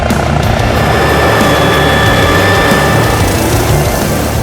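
A police helicopter makes a loud, steady rotor and engine drone that holds unbroken throughout, with a dense low thrum beneath a faint turbine whine.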